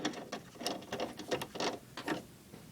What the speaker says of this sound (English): I just tighten it down with a socket